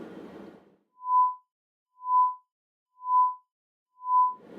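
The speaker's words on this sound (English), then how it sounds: "We'll also modulate the input signal like this" A modulated sine test signal from a quantization-noise demonstration: four evenly spaced, smoothly swelling pure-tone pulses, clean and steady, framed by short bursts of hissy noise at the start and end.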